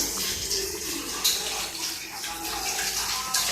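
Water pours steadily into a pressure cooker while cluster bean kuzhambu is being made, a continuous close splashing gush that runs the whole time with no pause.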